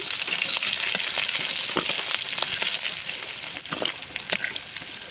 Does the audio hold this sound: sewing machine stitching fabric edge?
no